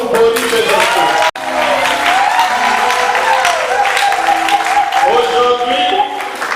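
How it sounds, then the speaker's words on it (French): Wedding guests at a religious wedding ceremony applaud loudly, a dense, sustained wash of clapping with cheering voices mixed in and a brief cut near the start. "je vous permets d'applaudir très fort pour Boris et Jean-Claude."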